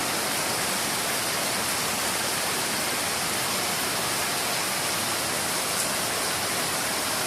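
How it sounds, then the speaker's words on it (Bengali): Heavy monsoon downpour pours down in a steady, dense roar of rain, loud and unbroken throughout, with no voices. "বন্ধুরা কত জোরে বৃষ্টি আসছে মুষলধারায়"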